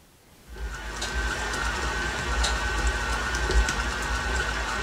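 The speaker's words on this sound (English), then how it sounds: "Use an electric mixer set at medium speed to beat the filling for 3 minutes." An electric mixer at medium speed beats a brownie filling of corn syrup, sugar and eggs, starting abruptly after a brief pause and then holding a steady, loud, close whirring drone with no talking.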